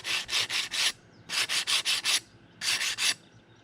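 A 120 or 60 grit foam sanding pad scrubs along a cut tile edge in three bursts of quick back-and-forth rasping strokes, close and steady, with short pauses between bursts and no voices.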